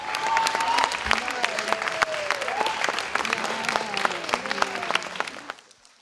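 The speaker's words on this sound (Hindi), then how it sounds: "Give a big round of applause." A crowd at an awards ceremony breaks into loud, sustained applause for a standing ovation, with dense clapping and a voice talking over it before the clapping tapers off near the end.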